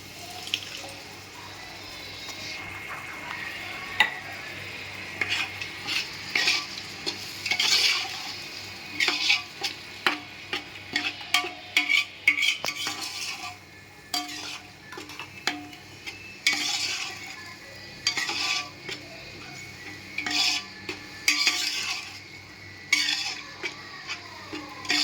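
Chicken biryani masala stirred with yogurt in a frying pan: close, irregular wet scraping and squelching with occasional utensil taps against the pan, no voices.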